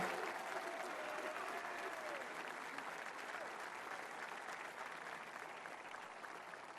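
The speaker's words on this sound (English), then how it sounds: "Let's give a round of applause to the incredible job they did." Sustained applause from a large crowd at a Marine Corps 250th anniversary event, a dense wash of clapping that stays loud and even, with a faint cheer beneath.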